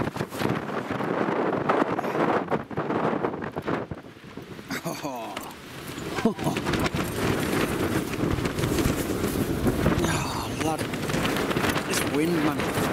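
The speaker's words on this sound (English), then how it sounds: "It's strong that wind though." Strong gusty wind of about 25 mph while wild camping on Castle Crag buffets the microphone throughout, roaring and fluttering with a person talking intermittently over it.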